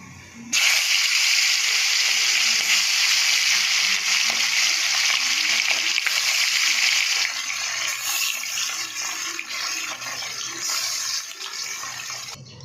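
Steady, loud sizzle of fish frying in hot oil, a bright continuous hiss that starts abruptly and runs throughout, easing slightly near the end.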